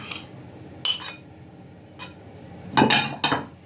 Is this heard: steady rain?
no